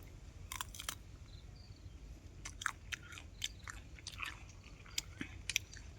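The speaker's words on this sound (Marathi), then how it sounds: "आता आपण थोडं चाखून पाहूया कसे आहेत ते." Someone chews fresh jujube (bor) fruit outdoors in a village setting, producing faint irregular crunchy bites and mouth clicks over a low background hum, close but quiet.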